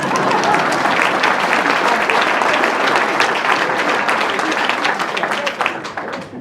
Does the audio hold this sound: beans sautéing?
no